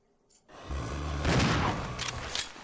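Gunshots in the video game Resident Evil 0, a dense booming burst of firing after a brief silence, loud and continuous with rumbling low thuds.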